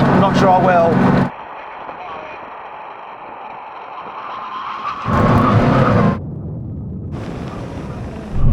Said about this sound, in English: Now we can have a brake test from 100 miles an hour. When we reach line, full emergency stop.